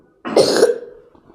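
One sharp, close cough bursts out, then fades into a brief rough throat sound.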